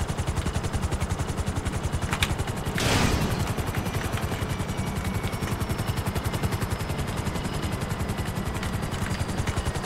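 Helicopter in GTA 5 Online, a loud, continuous rhythmic rotor chop throughout, with a short burst of gunfire near the start.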